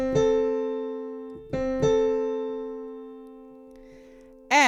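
A major sixth sounded as a low note then a higher note struck twice, each ringing and fading slowly, close and fairly loud with no talking, ending with a brief bright sound.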